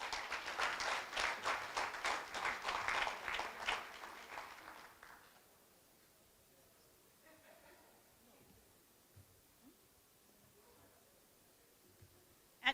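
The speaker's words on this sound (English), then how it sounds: "Round of applause." Audience applause at a 90th birthday celebration, a steady mass of clapping hands for about five seconds before it abruptly dies away into quiet room tone with faint movement.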